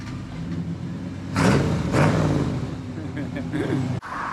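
A Hillman car at a car meet, its engine idling then blipped in two quick rising revs before settling back, with a voice talking partway through.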